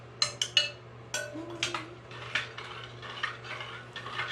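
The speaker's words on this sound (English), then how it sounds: "So I just go back and forth and stir." A utensil stirs a lavender and sweet orange soap mixture in a container, making close scraping and clinking strokes in a steady back-and-forth rhythm, with no talk.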